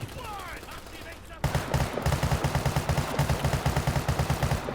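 Gunfire in the multiplayer shooter World War 3: a rapid, steady automatic burst of many close shots begins partway through and continues to the end, after a quieter stretch of ambient game noise.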